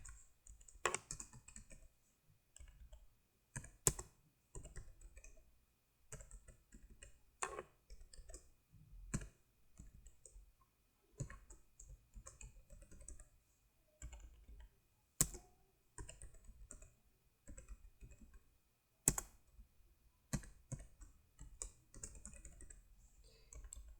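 Java code is typed on a computer keyboard in quiet, irregular bursts of soft key clicks with pauses between them, heard up close and alone.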